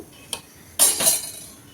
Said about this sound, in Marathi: आता कुकरचं झाकण लावूया